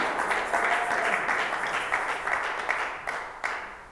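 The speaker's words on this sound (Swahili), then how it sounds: "kupiga makofi ajili ya neno la Mungu." A church congregation claps and applauds together in steady, moderately loud applause that gradually thins out over a few seconds.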